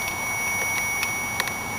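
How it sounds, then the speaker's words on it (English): A Mazda Bongo Friendee van gives a key-in, door-open warning, a thin continuous electronic beep tone that holds steady over a quiet hiss with a few faint clicks. "It does, because the key's in now with the door open. So we're getting this beeping"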